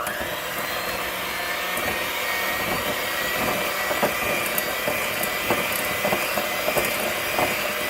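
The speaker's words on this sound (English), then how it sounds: "Handy dandy mixer on low. It's going to be loud, y'all." Electric hand mixer running on low, creaming butter and sugar for a keto pound cake: a steady, loud motor whir with faint rattling beater clicks, continuous throughout and without talk.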